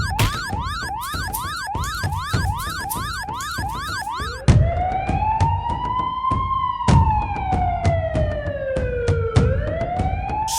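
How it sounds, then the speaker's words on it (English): A loud cartoon fire-engine siren wails with a fast warbling yelp, then switches to a slow rising and falling wail, continuous and close. "Alarm? Siren? The firefighter is ready to fight the fire."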